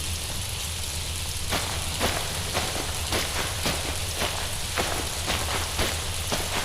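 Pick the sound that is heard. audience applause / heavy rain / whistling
heavy rain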